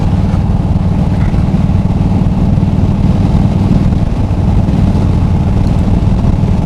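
An Indian Super Chief motorcycle on the move gives a loud, continuous low engine drone mixed with wind rush, heard from close by at the rider's helmet.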